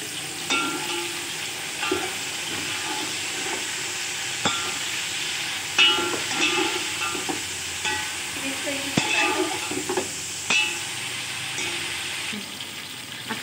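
Chopped tomatoes sizzle steadily in a hot pan, with occasional scrapes and clinks of stirring over the constant frying hiss.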